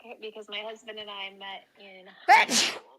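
A single loud sneeze bursts out right after a woman's steady speech, followed by a brief breathy tail.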